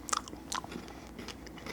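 Buncha Crunch chocolate candy bitten and chewed close to the mic: a couple of crisp crunchy bites followed by softer, fainter crunching chews over quiet room noise.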